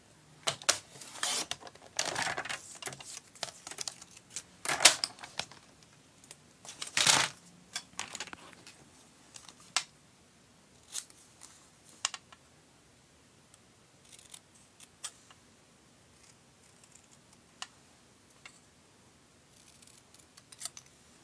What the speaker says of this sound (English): So get your paper trimmer.